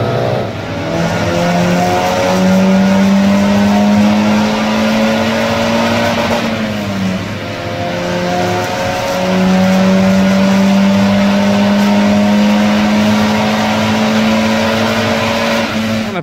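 Japanese performance cars on a dyno at DGP, engine loud and close as it revs up through long sustained pulls, dips briefly and climbs again, droning steadily throughout.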